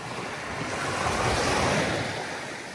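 Sea waves wash onto a Black Sea beach at a tent camp in Kurortne, Odesa region, a steady swelling surf rising and easing, with wind hiss over it.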